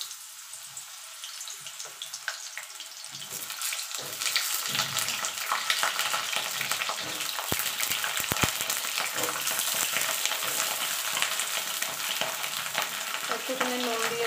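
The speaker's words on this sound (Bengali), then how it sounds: "দেখুন তেলটা গরম হয়ে গেছে, পটলগুলো ছেড়ে দেবো।" Pieces of pointed gourd (potol) drop into hot oil in a pan, and a quiet start gives way to a sustained, close sizzle with crackling that continues to the end.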